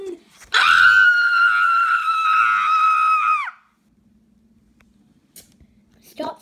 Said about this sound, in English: Stop screaming, Hungry.